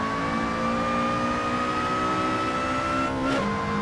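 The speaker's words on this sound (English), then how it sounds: "Let's get down to third gear through the first corner." A race car engine in a racing simulator on the VIR circuit holds a steady high drone through a corner in third gear, with a brief pitch dip and shift near the end, loud and continuous without talk.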